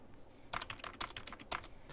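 Someone types on a computer keyboard at close range, making a quick, uneven run of clicking keystrokes with a few sharper taps, with no talking.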